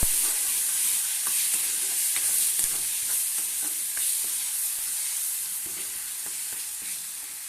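Spice paste fries in hot oil in a pan, a continuous close sizzle and hiss dotted with small pops and scrapes, steady throughout with no voices.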